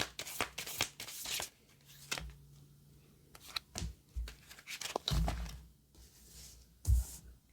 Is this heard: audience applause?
no